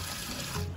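Chicken feet are rinsed under a running kitchen tap into a sink, a short steady splash of flowing water close by, with no talk.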